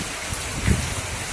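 Heavy rain falling in a steady, dense wash of drops on nearby surfaces, with one brief low thud partway through and no voices.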